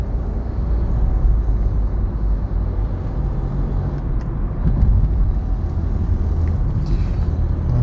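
A steady, loud engine rumble from inside a moving 2021 Volkswagen Nivus with the 200 TSI engine, accelerating along an avenue, with road noise holding constant and no talk.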